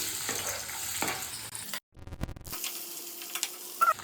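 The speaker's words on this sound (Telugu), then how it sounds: "కోసిపెట్టిన ఎర్రగడ్డ వేసుకోవాలి." Chopped onions fry in oil for chicken pulusu, a close sizzle with a few stirring scrapes, briefly cut off by a short gap and a burst of clicky noise before the frying hiss returns.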